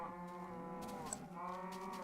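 Cows low in a farm pen in a Minecraft-style game, a long, drawn-out, tonal moo followed by another that overlaps it, faint and steady, with no talking.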